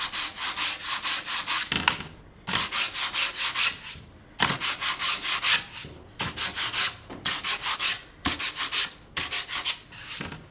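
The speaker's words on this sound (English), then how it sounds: "We are going to use our 60 grit sandpaper and do the same kind of treatment" 60 grit sandpaper rubbed by hand over a painted and stenciled background, steady rhythmic back-and-forth rasping strokes in bursts of about a second with short pauses, close and clear with no talk.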